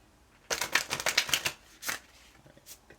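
Tarot cards are riffled and shuffled by hand in a quiet room: a quick burst of crisp flutters, then a short pause and a couple of lighter riffs.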